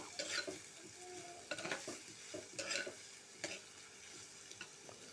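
A spoon scrapes and stirs through a thick prawn masala in a frying pan, in several brisk strokes over a steady background sizzle.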